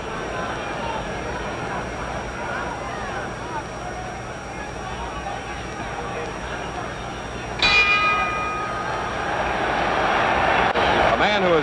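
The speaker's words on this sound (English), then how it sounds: "The bell in 10 seconds." A boxing ring bell rings once, sharp and resonant, over a loud arena crowd murmur before a 1963 Madison Square Garden heavyweight bout, its metallic tone lingering as the crowd noise swells.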